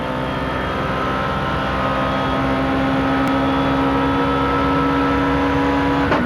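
Touring cars race down the long straight at Paul Ricard during a 1995 French Supertouring round. A steady, loud engine drone holds throughout with sustained tonal whine, and no talk is heard.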